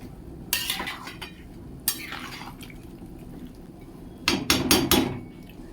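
A utensil scrapes and knocks in a pan while fried potato and pointed gourd are stirred together, giving a few bursts of close clattering strokes over a low background sizzle.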